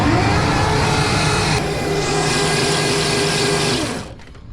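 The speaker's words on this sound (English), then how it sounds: "It's a quiet motor, it's an electric motor," A 72V electric motor on an e-bike spins the wheels with a loud, steady whirring hum that shifts slightly in pitch midway, then cuts out and fades near the end.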